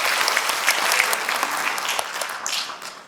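An audience at the launch ceremony of a rural basic income alliance bursts into sustained applause, a thick, bright roar of many hands that holds steady and then tapers off at the end.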